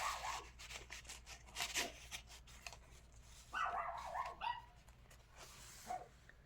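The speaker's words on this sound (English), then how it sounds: "If y'all hear my dogs barking," Dogs, one of them part Pomeranian, barking and yipping behind a closed door, muffled and faint, with scattered bursts across the clip over a low room hum.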